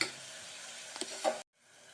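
Vegetables softening with salt in a pan for a cracked-wheat pulao, giving a quiet, steady sizzle with a few light ticks and stirring scrapes near the middle, then a sudden drop to near silence.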